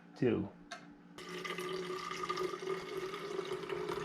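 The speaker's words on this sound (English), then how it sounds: "then fill it up with water and zero it out" Tap water runs steadily into a container to make salt water for winterizing a boat engine, a continuous rushing pour following a brief clatter and a short voice near the start.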